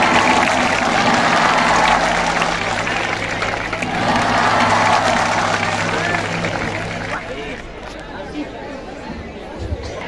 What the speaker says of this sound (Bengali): হাত আছে খালি জোরে দাও তালি।